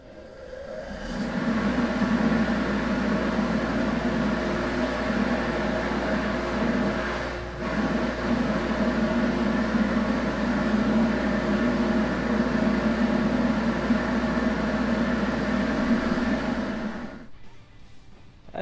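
Harbor Freight dust collector running on a preliminary test, a loud steady roaring hum that starts abruptly, holds evenly with one brief dip, then cuts off near the end.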